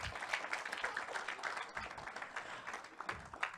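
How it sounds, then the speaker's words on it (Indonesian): Audience applause at a church service, a few seconds of uneven clapping from a crowd with a voice speaking over it. "tepuk tangannya buat anak-anak SOT dong"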